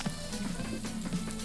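A hamburger sizzles on a grill in the cooking game Overcooked, a brief, faint, steady crackling fry with no voices over it.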